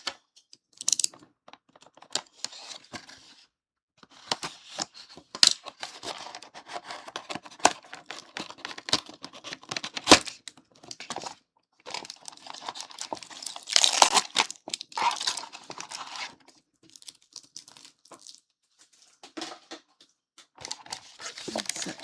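Tape peels and packaging crinkles while a Godzilla figure is unboxed, producing irregular bursts of crackling, tearing and rustling with short quiet gaps, close and fairly loud.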